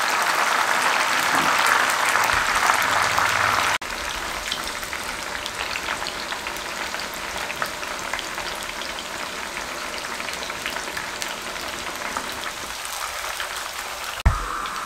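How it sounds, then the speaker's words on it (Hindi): Moong dal frying in oil over a medium flame, a dense, steady sizzle and crackle that runs throughout, briefly louder at the start and then settling into an even hiss. "इसको इस तरीके से फ्राई कर लें मीडियम फ्लेम पे 3 मिनट"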